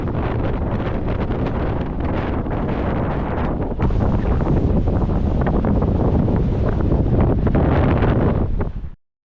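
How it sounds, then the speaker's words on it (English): Strong wind roars steadily at Hikawai beach, buffeting the microphone with a loud, constant rumble that grows a notch harder midway before cutting off, with a faint hint of surf beneath. "the wind was pumping"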